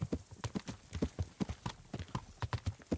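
Horse hooves clip-clopping in the video game Kingdom Come Deliverance, a quick, regular trotting rhythm of sharp hoof strikes repeating throughout, fairly faint overall.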